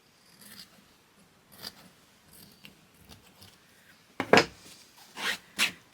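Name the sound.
scissors trimming quilt fabric pieces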